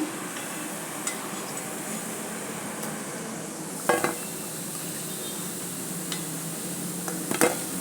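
Urad vada fry in hot oil over medium heat, a steady soft sizzle and bubbling with occasional light clinks of a utensil, close and fairly quiet.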